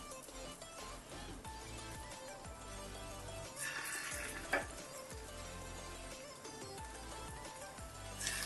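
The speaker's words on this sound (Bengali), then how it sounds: "এবার একটা একটা করে কোপ্তা ছেড়ে দিচ্ছি আমি।" Kofta balls fry in hot oil with a faint, steady sizzle and crackle, marked by occasional soft stirring and a single small clink.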